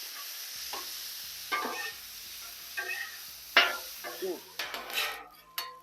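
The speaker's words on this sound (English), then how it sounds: "Just keep mixing this stuff up. Chop it up." Metal spatulas scraping, chopping and tossing ground meat on a Blackstone griddle for a chopped cheese crunchwrap, rhythmic clanks and scrapes over a steady sizzle, close and fairly loud.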